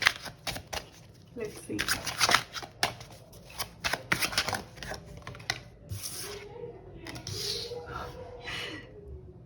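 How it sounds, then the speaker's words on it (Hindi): Tarot cards are shuffled close by in rapid riffling bursts and flicks, with someone speaking briefly over the later shuffles. "ये मैं आपके सामने लाइव शफल कर रही हूँ."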